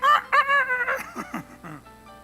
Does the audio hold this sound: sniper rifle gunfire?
no